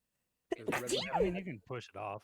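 A single sharp human sneeze bursts out indoors during a tabletop game session, followed by people talking.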